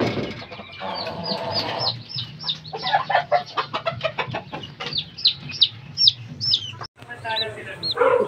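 Fighting-cock chicks of a game-fowl breed cluck and peep all the way through, with repeated close chirps over a steady farmyard background hum.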